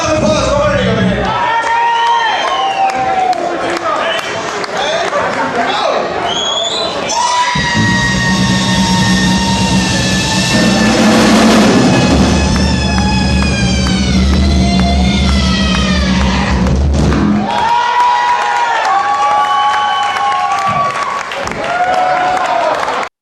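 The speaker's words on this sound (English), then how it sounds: "Big round of applause for Ernie over here." A crowd applauds and cheers loudly for Ernie at a band show, a dense sustained roar of clapping and whoops that swells in the middle before settling.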